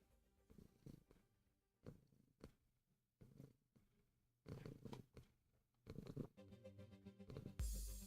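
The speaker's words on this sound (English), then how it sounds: "I see his purring is now loud enough." A cat purrs in soft rhythmic bursts, each breath a low rumbling pulse, close and fairly quiet, growing fuller toward the end, with a brief louder rustle at the very end.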